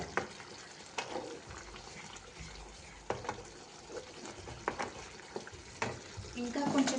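Pulihora tamarind rice being stirred and mixed in a pan, with a soft continuous frying hiss broken by irregular scraping and clinking strokes of a spoon, fairly quiet and close.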